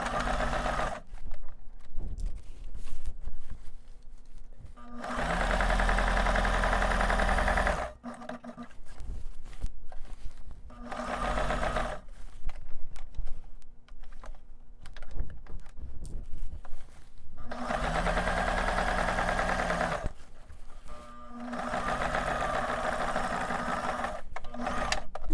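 A sewing machine stitches elastic into a garment in several long, steady bursts of rapid mechanical whirring and tapping, separated by short pauses as the fabric is adjusted.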